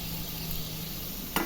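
Chicken pieces frying in a pan with salt, turmeric and garlic-ginger paste make a steady, close, soft sizzle, with a short knock or stir at the very end.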